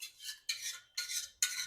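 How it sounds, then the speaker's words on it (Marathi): Cooked, mashed lentils (dal) are stirred in a pot for veg dalcha, giving four separate scraping, rasping strokes of roughly equal length, close and fairly quiet, with no voices. "छान एक जीव हलवून घेऊ, मिक्स करू छान"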